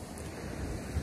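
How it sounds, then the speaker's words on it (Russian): Sea waves washing onto the shore, a steady soft wash of surf with a little wind noise, faint and continuous throughout. "Так, вода шумит вот, морская."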